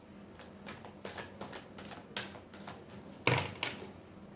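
Tarot cards shuffle in a run of soft, papery bursts, close and fairly quiet, each stroke rising and fading, with a sharper slap of cards near the end.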